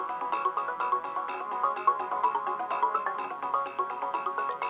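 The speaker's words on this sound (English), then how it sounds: "There's more terrible MIDI sound." Built-in wavetable MIDI music playing from an IBM ThinkPad T23 running Windows 98, a bright, thin synthesized melody with quick repeated notes at a steady tempo, fairly loud and alone.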